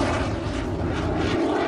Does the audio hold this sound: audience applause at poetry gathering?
no